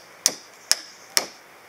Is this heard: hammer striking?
yes